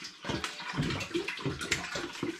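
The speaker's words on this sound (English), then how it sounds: "So I'll just get 2 litres of spring water into this pan." Spring water poured into a kitchen pan, a continuous splashing gurgle with uneven surges, close and fairly loud, with no voices.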